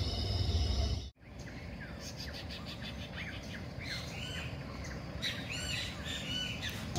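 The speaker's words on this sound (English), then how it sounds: "We woke up to all sorts of nature sounds, birds, chickens, dogs" Morning birdsong outdoors in rural Costa Rica, with many chirps, squawks and calls overlapping at moderate distance over steady ambient noise, after a brief sharp dropout at the start.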